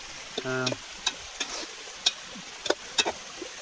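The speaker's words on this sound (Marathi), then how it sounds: "आता मित्रांनो हे कांदा वगैरे टाकलाय तेल वगैरे टाकून घेतलंय. व्यवस्थित मिक्स वगैरे करून घ्यायचं." Onions frying in oil for a rustic chicken curry cooked outdoors in a forest, with a few scattered scrapes and clatters of stirring over a faint sizzle, no talking.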